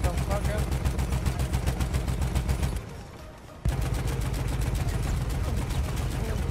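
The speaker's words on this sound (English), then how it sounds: "I'm gonna shoot up at the behemoth" Rapid automatic gunfire rattles nonstop in Battlefield 1, loud and close, as a weapon is fired up at a behemoth; the shooting cuts out briefly for under a second, then resumes just as dense.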